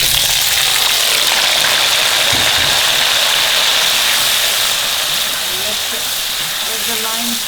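Lime pieces fry in hot oil with onion seed and hing for a lime pickle, giving a steady, loud, dense sizzling hiss that holds evenly throughout with no voices.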